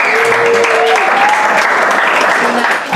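A crowd applauds loudly and steadily, a dense wash of clapping with a few cheers mixed in.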